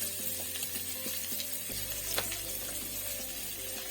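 Sliced onions frying in hot oil give a steady, close sizzle with soft crackles, continuous throughout, no talk.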